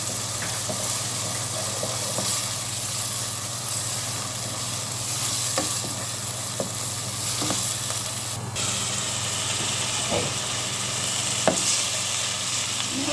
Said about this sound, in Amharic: ተመልካቾች እንዲህ እየተቆላላ ነው።